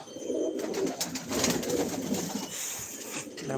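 Pigeons, one of them white, released outdoors from a loft in the morning, giving soft cooing and fluttering calls with steady bird noise throughout and no talk.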